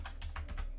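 Quick keystrokes on a computer keyboard, about five crisp taps in a steady run, close and clear with no talking.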